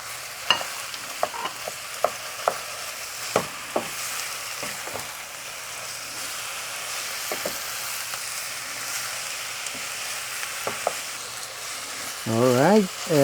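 Lamb goes into a pan of sautéing garlic, and a steady sizzle runs throughout, broken by scattered sharp clicks and scrapes of stirring, with a brief voice near the end.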